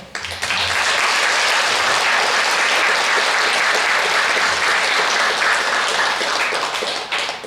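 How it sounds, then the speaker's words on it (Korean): A church congregation at a Sunday Korean worship service stands and claps: loud, sustained applause from a full room, beginning abruptly and holding steady before easing off at the very end. "한번 일어나시고 박수를 다시 한번"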